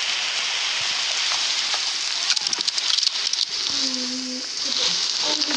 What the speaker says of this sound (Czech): No ono prší.